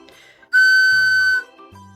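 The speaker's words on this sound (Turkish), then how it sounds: "Bu ne? Düdüklü şeker." A whistle candy is blown: a single sustained, bright whistle tone lasting under a second, loud and close, followed by a brief low murmur.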